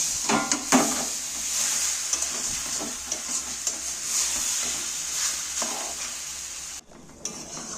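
Raw mango being fried in spiced tempering oil for a pickle, a continuous close sizzle with repeated scraping and tapping of a spatula as it is stirred, ending with a brief pause and a final knock.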